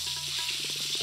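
Whole cinnamon, cardamom and cloves sizzle in hot oil as a steady close hiss. Soft crackles pop through it toward the end.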